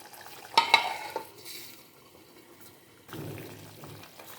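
Drumstick and brinjal masala curry cooks in a pan with a little added water, stirred with a few sharp scrapes and clinks early on, then a soft sizzle and bubbling simmer that swells again near the end.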